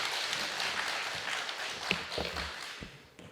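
Church congregation clapping to welcome a professor before a Christian doctrine lecture, a steady wash of applause from a moderately distant crowd with a few sharper claps near the end.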